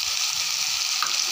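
Cut kadali potatoes dry-frying in a pan with no oil make a brief, steady, close crackling sizzle heard alone.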